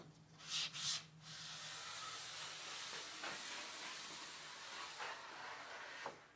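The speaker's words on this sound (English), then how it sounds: "Now I'm going to go down the grooves one at a time with the corner of the block" The corner of a sanding block rubs along the grooves of a tongue-and-groove wood panel coated in sanding sealer, a soft, continuous scratchy hiss with light strokes, faint and close, no voices.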